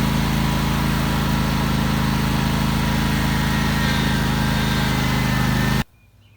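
Engine-powered vehicle pulling a fence stretcher to tighten fencing, a steady loud droning run that cuts off abruptly near the end, leaving quiet.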